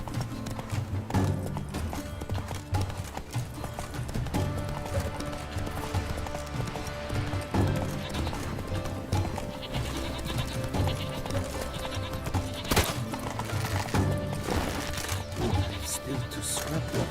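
Roach, Geralt's horse in the Witcher 3 video game, with rapid rhythmic hoofbeats running continuously under game music and ambient sounds, a brief louder impact near the end.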